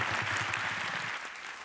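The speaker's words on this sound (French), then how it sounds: "Merci, bravo, on peut encore les applaudir." An audience claps for innovation prize winners at an awards ceremony, a dense burst of applause that carries strongly for about a second before thinning into a softer patter.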